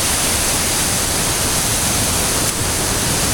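Loud, steady broadband roar of a waterfall heard up close, an unbroken rushing wash that fills the whole clip with no other sounds.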